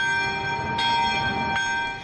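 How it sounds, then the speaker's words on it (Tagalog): Church bell ringing at Immaculate Conception Cathedral in Zamboanga City, sustained metallic tones with long overlapping resonance and fresh strikes roughly every second, fairly close and clear with no talk. "Pinatunog din doon ang kampana."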